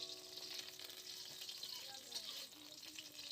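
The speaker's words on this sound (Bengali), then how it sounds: "রসুন দিয়ে দেবো, গোটা রসুন, নেড়ে নেবো এপিট ওপিট করে, নেড়ে নিচ্ছি" Whole garlic cloves fry and get stirred in a pan, a steady soft sizzle with faint scraping movements, close but fairly quiet throughout.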